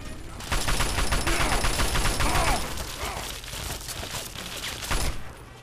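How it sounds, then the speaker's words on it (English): Sustained rapid minigun fire in Fallout 3 roars for several seconds as a dense, steady stream of shots, loud and continuous before thinning out, with a few bursts trailing toward the end. "He's got a minigun."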